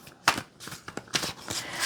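Tarot cards being shuffled by hand in a quick series of close, papery riffles and slaps, bursts coming in an uneven rhythm with brief gaps and no talk.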